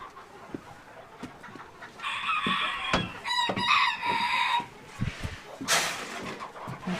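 Chickens and a rooster in a coop during winter chores, clucking steadily with a loud crow rising in the middle, close and fairly busy against some handling noise.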